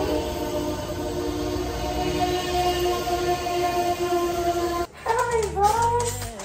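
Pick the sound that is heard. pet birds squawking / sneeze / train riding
train riding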